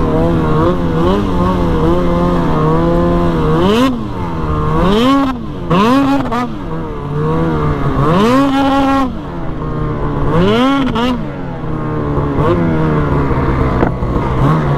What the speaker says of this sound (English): I'm having bog issues at full throttle